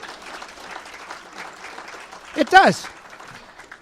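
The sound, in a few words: audience applause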